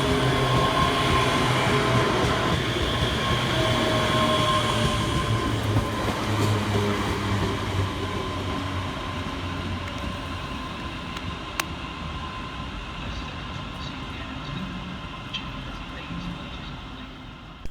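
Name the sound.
ScotRail Class 385 train arriving at Paisley Gilmour Street station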